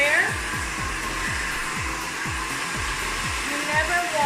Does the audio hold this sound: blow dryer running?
yes